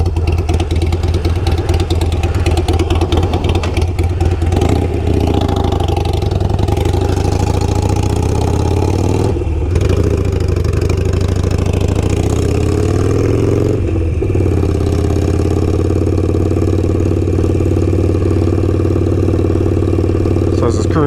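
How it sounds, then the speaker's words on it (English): A Harley-Davidson motorcycle fitted with a Kinetic 'The Coil' exhaust idles close by, a steady low rumbling throb with slight lumpy variation and a couple of brief dips, running alone throughout. "What idle sounds like on the bike."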